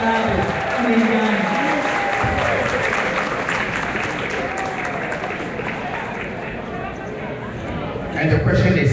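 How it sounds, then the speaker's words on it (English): A crowd at a political party dinner in Toronto applauds continuously, a dense, loud wash of clapping with faint voices and tonal sounds mixed in, swelling again near the end. "do we have to stop the applause before she gets up there?"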